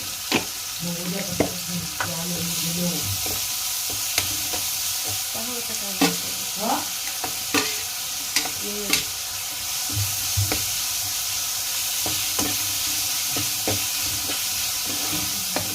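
Green chillies and onion fry in a pan with a constant loud sizzle and hiss, while a spoon clinks and scrapes against the pan now and then.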